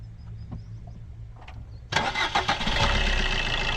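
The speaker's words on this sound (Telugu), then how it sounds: "ఒకసారి ఇంజన్ స్టార్ట్ చేయరా?" A Maruti Suzuki S-Cross 1250cc engine cranks and catches, jumping from a low rumble to a loud, steady idle close by, with no talk.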